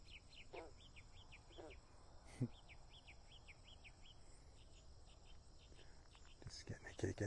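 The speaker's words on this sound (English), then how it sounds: "Just getting a kick out of the frogs." Frogs call at a pond at sunrise in Baltimore, Ohio, with short repeated chirping calls in a steady rhythm, quiet and moderately distant, with crickets and occasional birds around them and a few soft knocks and handling sounds near the end.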